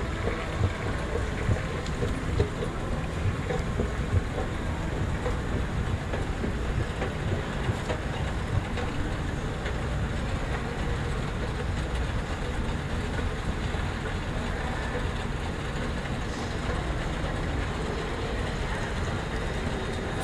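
A mall escalator at the Shops at Willow Bend in Plano, Texas runs steadily while riding down, a continuous even mechanical rumble and hum with faint clicking, close and unbroken, no voices.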